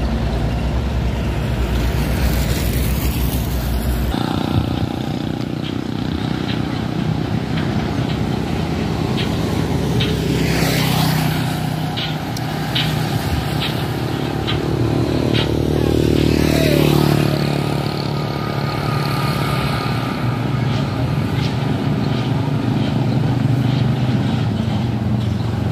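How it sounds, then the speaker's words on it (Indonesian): A truck slowly turns around at a busy roadside scene, its steady engine rumble holding throughout with clattering and a couple of passing vehicle sweeps, and no talk. "Itu truk pokoknya sedang mutar ya."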